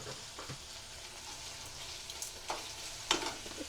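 Okra curry being stirred with salt in a hot pan: soft scraping and stirring over a quiet background sizzle, with a few sharper clinks of the utensil near the end.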